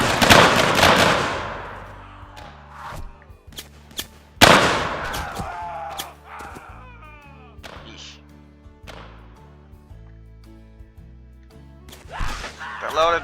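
Musket rifle volleys crack out in a Civil War battle within Mount & Blade: Warband, two loud close salvos with scattered shots and thuds between them, while a man calls out orders.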